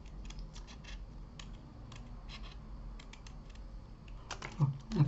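Scissors cut a paper heart in a run of close, quick snips and crisp paper rustles, steady and quiet, ending in a few louder cuts with a brief voice at the end.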